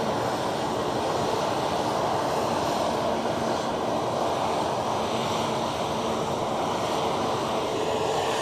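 WestJet airliner taking off at Edinburgh Airport, a loud, continuous jet engine roar sustained throughout without speech.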